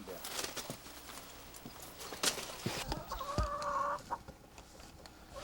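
Chickens clucking around a rural house by a stream in winter, brief clucks and calls rising over outdoor background noise, with a louder sustained call near the middle.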